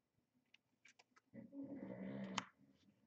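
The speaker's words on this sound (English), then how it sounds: "Dog is snoring again." A dog snores softly indoors, a few faint snuffly breaths building into one longer, louder rumbling snore, then fading out, with no talking.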